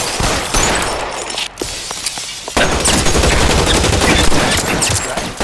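A Tommy gun firing in L.A. Noire, loud sustained automatic bursts with a short pause near the middle and glass-like crashes mixed in, thick and close throughout.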